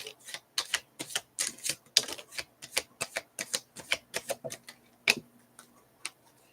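Tarot cards are shuffled and pulled during a reading, giving a brisk series of crisp, close snaps and flicks at a fairly regular rhythm, about two or three per second, then thinning to a few isolated clicks.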